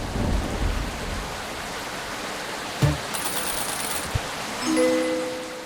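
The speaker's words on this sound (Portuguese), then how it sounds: "Vamos ver a chuva." Video game rainfall hisses steadily while a deep thunder rumble swells near the start, followed by a sharp crack and a few small thumps, with faint tonal game sounds at the end.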